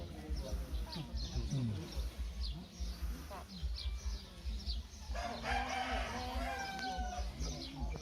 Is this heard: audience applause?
no